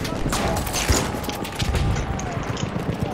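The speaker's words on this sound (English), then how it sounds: "Someone's shooting at us." Gunfire in the Battlefield video game, with rapid bursts of shots and sharp cracks over a continuous rumbling battle din.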